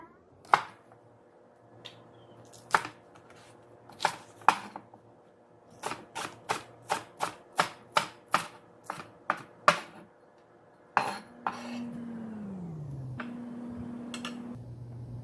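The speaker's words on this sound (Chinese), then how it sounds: "小葱切成葱花" A knife chops spring onions on a cutting board in sharp, distinct knocks, sparse at first and then in a quicker steady run, followed by a low hum near the end.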